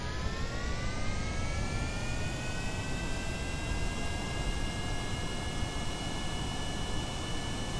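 A spacecraft engine in Kerbal Space Program runs at half throttle for takeoff, a steady loud roar with rising whining tones that stays constant for several seconds, no speech.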